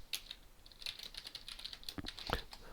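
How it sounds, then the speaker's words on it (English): Quiet, quick keystrokes patter on a computer keyboard as an account name is entered, a fast irregular run of light clicks with a couple of sharper taps near the end. "Typing in the account name, and it's not even close."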